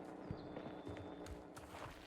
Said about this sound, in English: You can hear the footsteps.